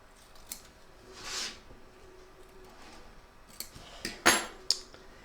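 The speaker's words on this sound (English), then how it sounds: "Trim up the excess batting from around the stitch line" A few crisp scissor snips trim excess batting from around the stitch line of a large double-sided Santa appliqué in an embroidery hoop, sounding close and quick, with a small cluster of cuts near the end after quiet handling.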